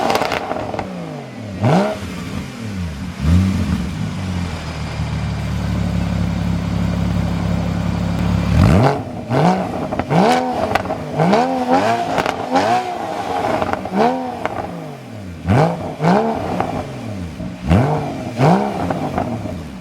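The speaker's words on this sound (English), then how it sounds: "here's one last rev" Porsche Cayman S with an Armytrix valved exhaust revving up repeatedly, loud and close, first a couple of blips, then a steady idle drone, then a rapid string of sharp rising and falling revs.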